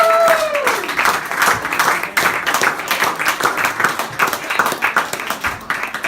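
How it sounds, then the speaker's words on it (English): Warm audience applause for a speaker taking the stage at a roast, dense steady clapping from a crowd that carries on loudly for about six seconds with no speech over it. "Thank you, ladies and gentlemen, for that warm applause."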